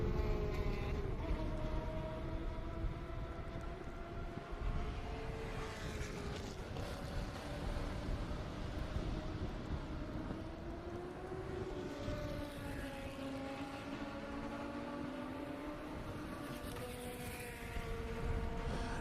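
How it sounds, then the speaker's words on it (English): An LS-swapped Porsche race car at Circuit of the Americas, its V8 drone rising and falling steadily through gears as it laps the track, loud and continuous with no talk. "this is actually an LS swap Porsche right there"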